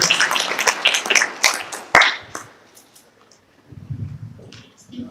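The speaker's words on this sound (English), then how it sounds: "Let's give her a round of applause as she comes." Scattered audience clapping at a system launch event, a brief burst of claps that tapers off within about two and a half seconds, followed by quiet and a low murmur of voices.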